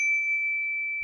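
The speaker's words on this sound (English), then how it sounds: "a bell" A single bright ding from a bicycle bell on a Specialized Roll bike, one clean sustained ring held for about a second and fading slightly, close and alone.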